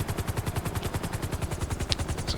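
A helicopter in GTA 5 Online, its rotor chopping in a fast, even pulse that stays loud and close for the whole stretch, with no voices.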